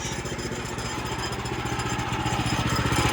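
A sawmill's engine running steadily while cutting a log into boards about an inch thick, a loud close pulsing drone with a fast rhythmic chug that builds slightly in strength over a few seconds.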